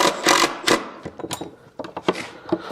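A power driver sinks screws into an antique birch dining table in short bursts, with several quick whirring pulses separated by brief pauses and small clicks, close and fairly loud.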